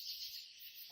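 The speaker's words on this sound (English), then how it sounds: "There's just tree frogs and bugs and typical Missouri sounds." Night chorus of insects and tree frogs in the woods near Table Rock Lake, Missouri: a steady, dense high trill droning continuously at moderate distance, with no voices.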